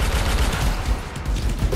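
Dense, continuous automatic gunfire from a machine gun in the video game Anthem, loud and unbroken for the whole stretch.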